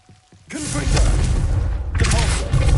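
A Confringo blasting spell in Hogwarts Legacy goes off in a booming burst with a whooshing blast tail, then a second heavy impact follows about a second and a half later, loud and close.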